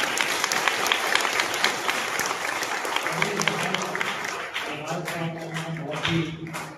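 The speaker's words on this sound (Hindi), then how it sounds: "इसके लिए जोरदार तालियां हो गई।" Loud, dense applause from an audience at a student award ceremony in Sitapur, a sustained wash of clapping that continues steadily throughout, with some tonal background sound joining later.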